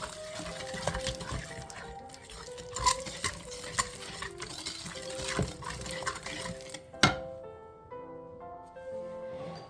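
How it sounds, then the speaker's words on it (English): Pumpkin pie ice cream base whisked in a bowl, a continuous quiet rapid scraping and swishing with small clinks against the bowl, ending in a sharper knock before fading to softer sounds. "I am just going to give this a whisk to mix this up"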